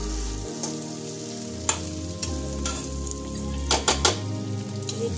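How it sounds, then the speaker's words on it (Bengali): Spicy chicken kosha being stirred and fried in a pan: a soft sizzle runs throughout, broken by several sharp scraping stir strokes near the end, with no voices. "চিকেন কষা"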